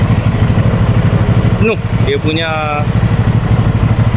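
A PF Moto 600cc V-twin motorcycle idles with a steady low rumble throughout, while someone talks over it close to the microphone.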